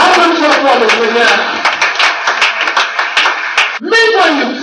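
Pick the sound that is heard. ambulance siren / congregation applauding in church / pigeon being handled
congregation applauding in church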